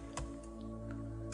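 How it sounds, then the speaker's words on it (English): A few scattered keystrokes on a computer keyboard, faint and close over a constant low electrical hum, with one slightly stronger tap near the start. "So let me type it in"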